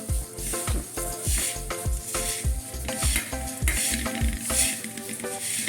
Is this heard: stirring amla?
yes